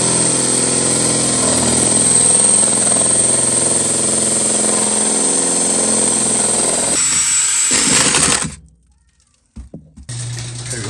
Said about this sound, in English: So let's go down in the basement and drill out our hole.